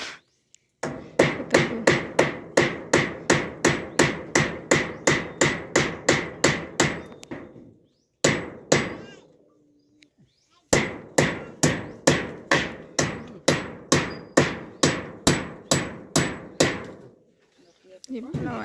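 Hammering on wood during a home craft or building session, with rapid, steady series of loud close strikes, a pause near eight seconds and again around ten, then another long run of blows.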